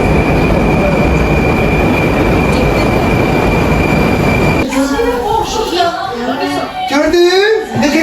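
Inside a Baku metro train near Azadlıq station, a loud, steady rumble and rushing roar of the moving carriage fills the space, with a high whine above it; after a few seconds it drops away and voices talk over quieter background noise.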